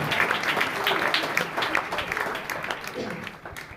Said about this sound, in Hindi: आप सबको ईद पाश का बहुत बहुत मुबारक हो। जोरदार तालियों में।